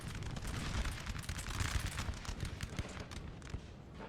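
Distant cannon and musket volleys crackle and thud continuously on a Napoleonic Total War battlefield, 12-pounder artillery firing among dense layered gunfire with no single dominant shot.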